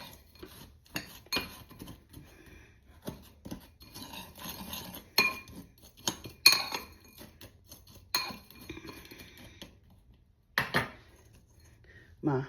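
Spoon clinking and scraping through pork with barbecue seasoning in a crock pot, a run of scattered close taps and rubs with short gaps and quieter rustling between strokes.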